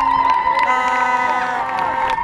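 A forum crowd at an economic empowerment gathering in Bura responds with raised cheering voices and shouts, a dense, lively swell of many people close by.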